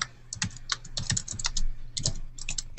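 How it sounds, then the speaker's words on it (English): Quick, uneven keystrokes on a computer keyboard, close and crisp, clicking in short irregular runs. "but we can hear him typing as well"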